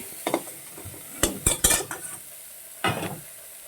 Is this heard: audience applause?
no